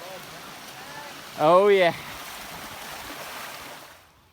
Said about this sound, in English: Oh, there's our water crossing.